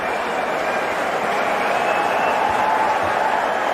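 A cricket crowd at an India vs Australia match applauds and cheers, a steady, dense wash of clapping from a large stadium audience lasting the whole moment.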